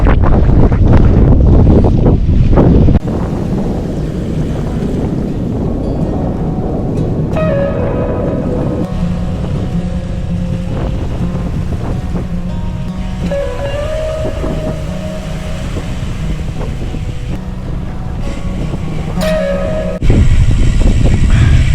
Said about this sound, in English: Back in a headwind.